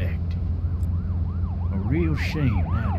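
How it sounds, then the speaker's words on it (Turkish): A wailing police car siren in the video game The Walking Dead sweeps up and down repeatedly in a steady rhythm, with a second siren layer joining partway through, loud and close. "polis arabası gitti."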